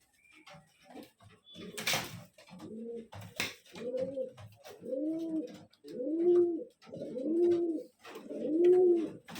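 Tournament pigeons coo close by in a steady series of rounded, throaty calls that grow louder and more regular, with a few faint clicks and knocks early on.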